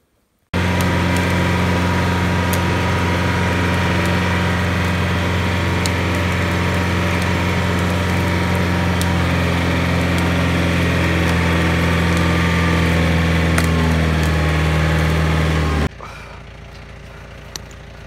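A tractor hitched to a log runs steadily while skidding a felled tree out along a creek. Its loud, even engine drone holds for about fifteen seconds, then cuts out abruptly to quieter surroundings.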